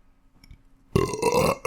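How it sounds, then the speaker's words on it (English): A belch from a video game comes after a brief stretch of quiet, low sounds. It is a loud, close, rasping burp of nearly a second, with a short extra burst at the end. "belching."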